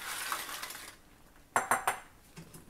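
Tortillas being stirred into salsa in a pan for chilaquiles with egg, with soft scraping and a few sharp clinks of a utensil against the pan, quiet apart from a short burst of louder knocks.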